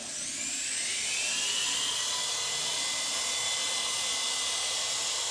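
A Syma S109G 3CH infrared RC helicopter runs at full throttle with its rotors spinning, a steady high-pitched motor whine and rotor whir that rises slightly, then holds loud and close for a few seconds with no talking.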